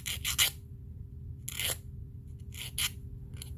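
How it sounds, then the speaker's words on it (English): A nail file rasps against a fingernail during a manicure, three short scratchy strokes close by and quiet, separated by pauses. "I see I need a little file over here"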